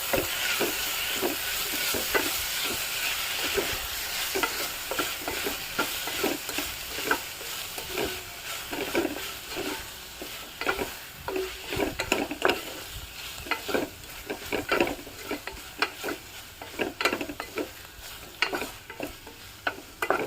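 Onion, tomato, coriander and mint leaves sizzle and fry in a pan for vegetable kurma, with steady crackling and repeated stirring scrapes throughout, close and moderately loud with no talk.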